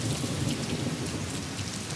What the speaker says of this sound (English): The Sri Lankan monsoon lasts around a month and brings heavy rain and thunderstorms across the island.